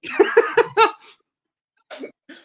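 A person gives a quick run of harsh coughs close up, four or five bursts, then a pause and two softer coughs.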